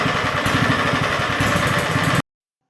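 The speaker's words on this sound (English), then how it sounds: "I like to run the motors for a few minutes to warm up the oil and to dislodge any sediment" A lawn mower engine runs at a steady idle to warm its oil, a close, loud, even putter with rapid firing pulses that cuts off abruptly.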